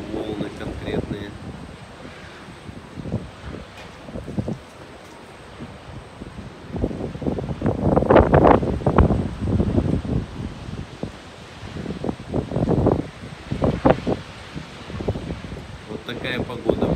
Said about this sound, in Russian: Вот такая погода, ветер сильно поднялся. Шторм вообще просто сильный.